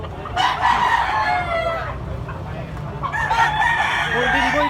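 Gamecock bullstag rooster crowing twice at a cockfighting farm, two loud close crows with a pause between them, over a steady low hum of other birds and background noise.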